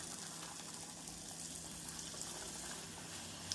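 Poori dough frying in hot oil gives off a faint, steady hiss with a soft bubbling texture that barely changes from start to finish.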